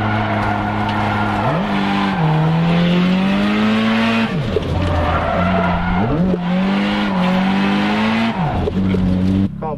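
A Nissan S15 drift car skids with loud, sustained tire squeal, its engine pitch rising and falling in repeated sweeps as it slides through several drifts, close and continuous throughout.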